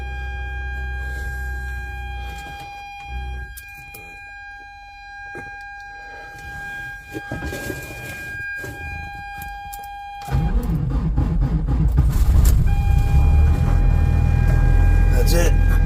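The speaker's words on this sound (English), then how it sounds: "This usually starts fairly good, but it runs kind of funny when it first starts up" A Ford F650 truck with a 24V Cummins diesel engine is cold-started: a steady electrical hum and whine runs for about ten seconds, then the engine catches and settles into a loud, rough rumbling idle.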